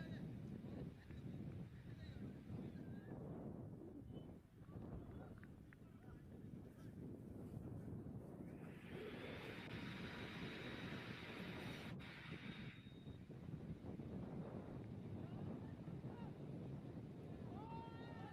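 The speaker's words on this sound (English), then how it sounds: "Look at the amount and the force of the wind." Strong, forceful wind buffets the microphone continuously at an outdoor cricket ground during a match, a steady low roar throughout with a faint higher tone passing partway through.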